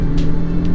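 Apache RTR 310 motorcycle riding on a highway, a steady loud engine drone mixed with rushing wind noise.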